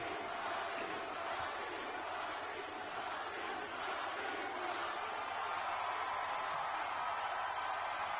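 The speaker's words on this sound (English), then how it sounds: "The final boss. They're all cheering for him, though." A wrestling arena crowd cheers for The Rock, a steady, distant roar of many voices that stays fairly faint and even throughout.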